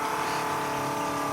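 An old Holley electric fuel pump pumping gas out of a truck gives a steady, even mechanical hum with a faint pulsing whir, continuous and close, with no talking.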